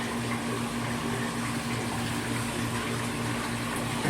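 Water runs steadily through the plumbing of a fish-room aquarium system, with split lines feeding a spray bar and refugium. The flow is loud and constant, a close rushing wash with a steady pump hum beneath it and no voices.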